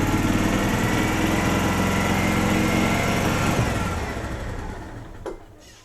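A 2004 Club Car Precedent gas golf cart engine runs with a loud, close buzzing drone, drops in pitch partway through, then winds down with a brief knock near the end, no voices.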